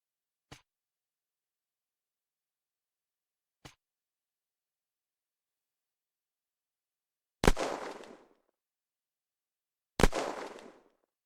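Four suppressed sniper rifle shots in Unturned ring out against silence: two faint, dry clicks spaced a few seconds apart, then two louder muffled cracks, each trailing off in a short decaying thump.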